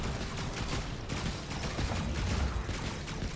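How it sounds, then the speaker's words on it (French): Laser turret firing in the sci-fi survival game Stranded: Alien Dawn, a dense, steady stream of rapid crackling bursts blending into a continuous barrage, loud and close with no voices. "La tourelle laser qui fait vraiment du bien."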